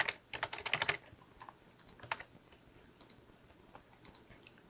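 Computer keyboard typing: close, crisp key clicks in quick bursts at first, then sparser single taps, with no voices.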